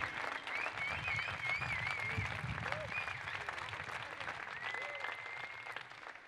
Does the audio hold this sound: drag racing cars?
no